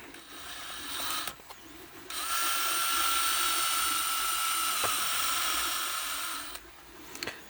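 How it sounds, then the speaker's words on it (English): Power drill boring a small hole straight down into the top of a pitch-laden wooden log basket, a steady high whine holding for about four seconds, preceded and followed by brief handling knocks. "I just want to drill a small hole in the top, smack bang in the centre"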